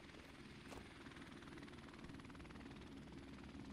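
A helicopter flies overhead during a first-person shooter match, its steady rotor drone loud and constant throughout, with a brief sharp noise near the start.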